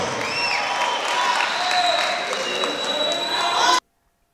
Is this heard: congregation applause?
yes